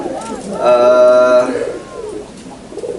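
A racing pigeon gives a drawn-out, throaty coo lasting about a second, close by, with a person talking quietly before and after it.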